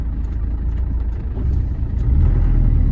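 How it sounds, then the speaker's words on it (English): Land Rover Defender 90 300Tdi diesel pickup with an R380 gearbox, its clutch dropped hard in reverse: a close, steady low engine rumble that swells slightly toward the end, with no clunk standing out. "I'm dropping the clutch a little hard here so you can hear there's no clunking in the gear changes"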